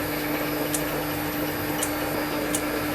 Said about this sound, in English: I've got the printer going over there